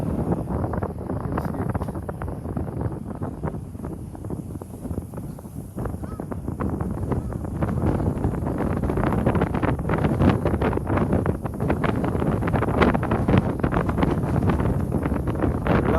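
Steady wind buffets a microphone outdoors in an urban district of Osaka, a constant rumbling roar that grows slightly stronger partway through and runs without any talk.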